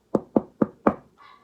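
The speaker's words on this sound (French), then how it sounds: "on entendait frapper à la porte" Four evenly spaced knocks on a wooden door, firm and close, followed by a faint, brief tonal trail as a storybook sound effect.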